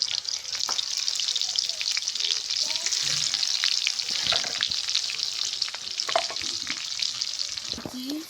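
Garlic sizzles in hot oil with bay leaf and cinnamon, a steady bright frying hiss with occasional crackles and a few stirring scrapes, close and continuous throughout.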